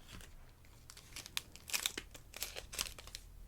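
Close, crisp crinkling and tearing of a marshmallow protein bar's plastic wrapper, in irregular bursts that grow busier toward the end, with no talking.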